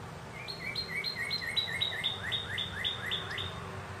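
A bird chirps in a quick repeated series of short, bright tweets, evenly spaced and fairly close, over a low background hum with no talking.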